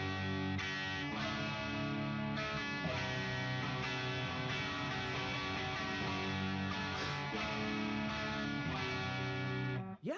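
Overdriven electric guitar played through an amp modeler in a metal style, a steady distorted chugging tone with sustained chords running throughout, fairly quiet, no talk over it.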